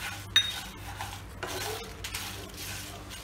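A few cashews drop into a pan while cooking homemade chicken masala powder, giving a faint clink and some light scraping and rattling of the pan, with no talking.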